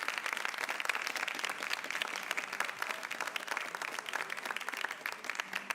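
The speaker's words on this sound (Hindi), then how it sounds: "तालियां जरूरी हैं।" Studio audience applauding steadily during a live Ramadan television broadcast, dense continuous clapping at moderate level with no talk, lasting throughout.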